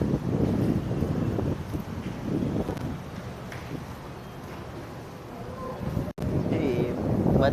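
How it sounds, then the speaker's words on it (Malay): Strong seaside wind on the Terengganu coast buffets the microphone in a loud, continuous roar, with faint voices now and then beneath it. "Kuat angin tu."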